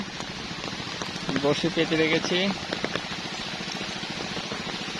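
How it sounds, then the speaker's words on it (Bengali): Rain falls steadily outdoors beside a river during a fishing session, a constant soft hiss of drops with a voice talking briefly over it near the middle. "বৃষ্টি শুরু হয়ে গেছে"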